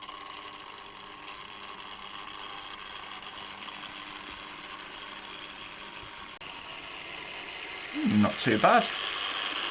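A repainted Hornby Class 142 Pacer model train in Metro livery runs on track with a steady, slightly rough buzzing whir, and a person speaks briefly near the end.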